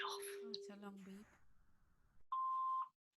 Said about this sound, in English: Oh, it's a long beep.